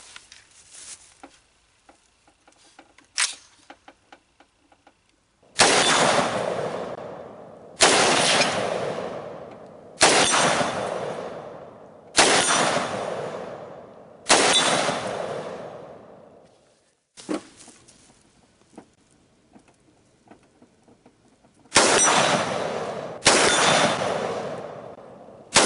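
An AR-15 rifle built on an AR15Mold.com lower fires at an outdoor range, sharp loud reports each trailing into a long decaying echo, mostly spaced a couple of seconds apart with a closer pair at the end.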